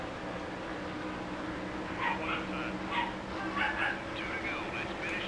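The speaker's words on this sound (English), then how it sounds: "I think my mom is egging the dog on or something, because she normally doesn't go freaking crazy like this" A dog in the house barks and yips in several short, excited bursts, somewhat distant, over a constant low background hum while someone talks.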